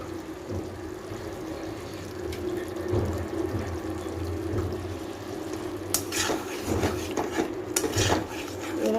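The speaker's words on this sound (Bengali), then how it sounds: "চিংড়ি মাছ দিচ্ছি দিয়ে এটা ভালো করে আমি কষবো" Prawns are sautéed in a pan, with a continuous close scraping and stirring hiss punctuated by a few sharper metallic knocks of the utensil toward the end.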